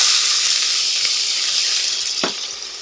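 Pepper and garlic sizzle steadily in hot olive oil, a loud continuous frying hiss close up with a few faint stirring taps.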